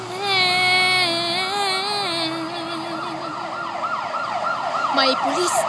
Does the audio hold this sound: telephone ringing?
no